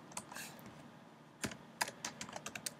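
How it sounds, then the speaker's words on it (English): Clicks of a computer keyboard during a Swift coding session, with a short burst of keystrokes, a pause, and then a quick run of irregular taps, fairly close and quiet. "let me type it myself"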